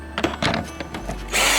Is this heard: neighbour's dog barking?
no